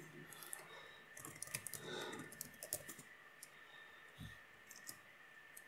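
Keys clatter on a computer keyboard in an irregular burst of close, crisp clicks, denser in the first half and thinning out later, with no voice over them.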